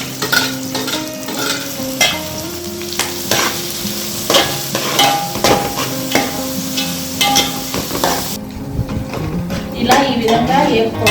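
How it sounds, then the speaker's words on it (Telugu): Curry leaves, onions and green chillies fry in hot oil with a steady sizzle, while a spoon stirs and scrapes against the pan in irregular knocks close by, with occasional talk over the cooking. "ఇప్పుడు వీటిల్లో కావాల్సినంటే కరివేపాకు, ఉల్లిపాయలు, పచ్చిమిర్చి అన్నీ వేసుకుని"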